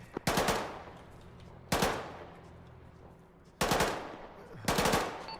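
Machine gun fire in the military video game Arma 3, four sharp bursts of rapid shots spaced a couple of seconds apart, loud and close, each trailing off into a reverberant tail.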